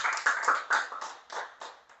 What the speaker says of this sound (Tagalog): So, bigyan natin ng palakpak ang Panginoon.